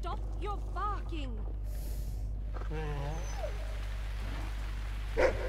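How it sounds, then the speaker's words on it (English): A dog barks and whimpers in the adventure video game The Cave, a few short yelps and whines early on, then a longer whining call, over a steady low electrical hum. "Stop your barking!"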